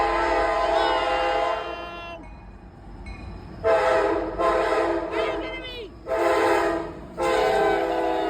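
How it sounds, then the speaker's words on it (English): A CSX eastbound empty coal train led by a flared SD70MAC diesel locomotive blares its horn in a long blast followed by several shorter loud blasts at a grade crossing, with rail rumble underneath. "we got the CSX eastbound anti-coal train with the flared sd70mac unit right there"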